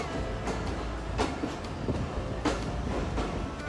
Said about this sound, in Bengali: সাতটা সাতচল্লিশ মিনিটে আমাদের এই বেতনায় ট্রেনটি ছেড়ে যায়